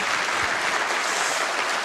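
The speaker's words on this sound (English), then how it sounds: "go ahead, you can clap, I don't mind." Crowd applause at a large 2016 Donald Trump political rally in Ottumwa, Iowa, a brief, dense, steady wash of clapping with no talking over it.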